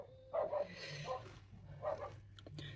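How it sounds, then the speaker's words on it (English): Dogs barking outside a house as they pass by, a few short barks and yips heard indoors at moderate distance, with a low background hum. "That's a couple of dogs going past the house"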